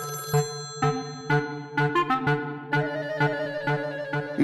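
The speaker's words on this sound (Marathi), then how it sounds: "मिस्टर केतकर, लँडलाईन वर फक्त फोन तुमच्यासाठीच येतात ना, मग उचलत जा ना पटकन" Landline telephone ringing in a home scene on a Marathi TV serial, a repeated electronic ring pattern in steady bursts, clear and prominent with no voices.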